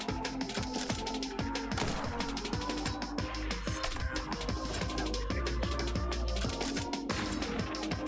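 Rapid bursts of video game gunfire crackle through a busy game soundtrack, with dense repeated shots and mechanical clacks running steadily and loudly across the whole stretch, no voices.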